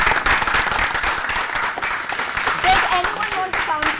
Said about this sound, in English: 3 claps for BJP then,